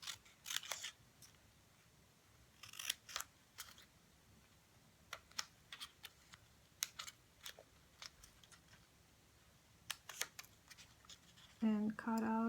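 Scissors snip through paper squares for a craft shadow box, giving sparse crisp close cuts in short clusters with quiet pauses between, and a voice begins speaking at the very end.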